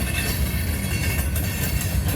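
A Conrail freight train rumbles past close by in Woodbury, New Jersey, loud and continuous, with rhythmic wheel clatter and no voices.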